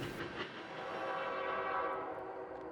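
Empty unit oil train hauled by BNSF locomotives rolling steadily across a river bridge, a continuous loud rumble and wheel noise with a horn-like tone, holding close and even throughout.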